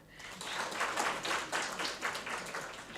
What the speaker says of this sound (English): So, please give her a clap.